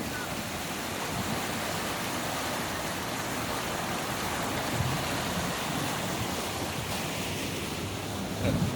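Water overflowing a canal and swirling out toward the sea, a continuous broad rushing roar with wind noise on the microphone, steady and fairly loud throughout.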